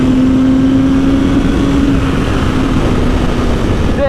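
A motorcycle engine revs hard near its rev limiter, a loud, steady high-pitched drone that holds for about four seconds before easing off slightly at the end.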